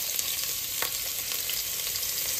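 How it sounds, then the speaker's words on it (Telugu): Garlic frying in hot oil makes a soft, even sizzle close to the pan, with one brief stirring scrape and no voices. "నూనె వేడెక్కింది, ఎల్లుల్లిపాయలు వేస్తున్నాను."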